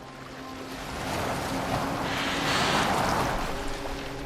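A boat being steered across open water in Assassin's Creed Valhalla, with a steady rushing wash of water and wind that swells gradually and stays continuous, with no talking.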